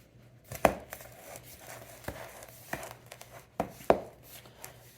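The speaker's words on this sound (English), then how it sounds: "just mix that last bit of flour mixture into the peanut butter and shortening" Flour mixture stirred into peanut butter and shortening for peanut butter cookies, a few close scraping and thudding strokes at an uneven pace with soft crinkly bits between.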